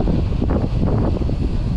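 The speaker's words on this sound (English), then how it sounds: "Oh my God, it's so windy." Strong, continuous wind buffets the microphone with a loud, rumbling roar that gusts unevenly throughout, on a mountain bike trail.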